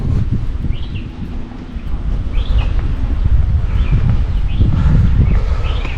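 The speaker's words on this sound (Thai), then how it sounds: "มีสระน้ำก็ลมพัดดี" Wind gusts across a temple pond at Wat Rong Khun as a steady, loud rumble on the microphone, with a few faint bird chirps above it.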